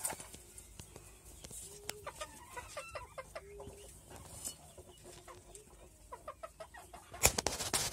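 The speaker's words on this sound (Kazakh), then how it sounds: "тауықтар" Chickens clucking in a farmyard coop, a steady run of short clucks and calls at close to moderate distance, with a louder burst of noise near the end.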